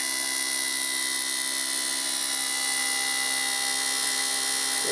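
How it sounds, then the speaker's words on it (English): A fuel injector firing on an Acceleronics VersaFueler test unit as its supply voltage is lowered, giving a loud continuous high-pitched buzzing whine with steady tonal harmonics, close and alone. "you can hear the injector tone change"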